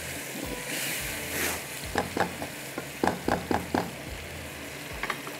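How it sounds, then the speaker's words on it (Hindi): Chopped tomatoes stir-fry in a pan for spicy rice, with a continuous sizzle broken by a run of sharp scraping and clacking strokes from a spoon against the pan, close and fairly loud. "तो इसको अच्छी तरह से भूनिएगा कि ताकि टमाटर का जो कच्चापन है वो ख़त्म हो जाए"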